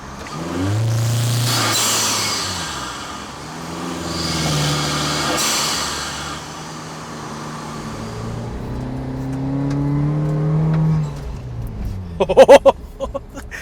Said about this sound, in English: the turbo noises that this car makes are hilarious.